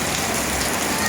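Dense, steady rain patters on surfaces nearby, a continuous hiss with no pauses.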